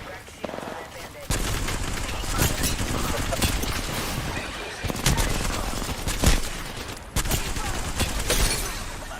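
Rapid automatic gunfire and scattered shots ring out in an Apex Legends firefight, loud and dense with repeated bursts and sharp cracks, while a player talks over parts of it.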